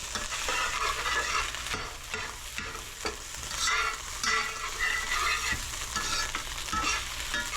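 Rice is pan-fried until dry and lightly browned, giving a continuous close sizzle broken by repeated scrapes and stirs of a utensil against the pan.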